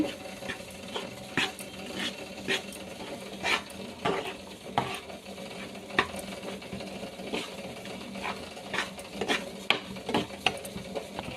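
Ragi flour being stirred and roasted in a pan, with steady scraping and tapping strokes of a spoon against the metal over a faint sizzle, close and continuous.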